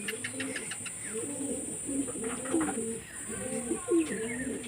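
Pairs of home-kept pigeons coo repeatedly in low, throaty phrases that rise and fall, close by and steady, with a faint continuous high-pitched hum behind them.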